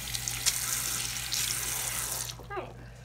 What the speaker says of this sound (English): I'm going to rinse off this sink a little.